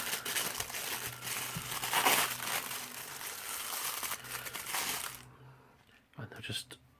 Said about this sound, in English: It sounds like this is within another bag.